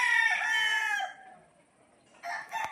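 A rooster on a game farm crows once, loud and near, its call trailing off before a brief second cluck-like burst follows.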